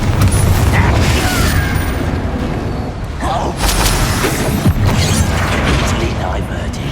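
Confringo spell blasts in the Hogwarts Legacy video game, loud booming rumbles and bursts rolling under a busy mix of combat effects, near and dense throughout.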